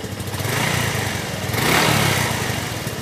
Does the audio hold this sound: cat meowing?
no